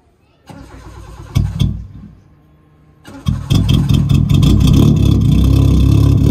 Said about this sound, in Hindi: गाड़ी स्टार्ट करो ज़रा